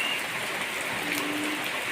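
Heavy rain falls over a rambutan orchard during the Thai rainy-season fruit harvest, a dense, steady wash of hiss with no pauses and no voices.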